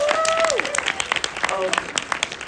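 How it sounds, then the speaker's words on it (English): Scattered applause from a small audience at a cinema Q&A, brisk claps thinning out, with a voice speaking over the start. "give them a clap."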